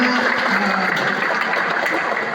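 Audience at an Islamic boarding school Ramadan gathering clapping together, a dense, loud, sustained wash of hand claps filling the room.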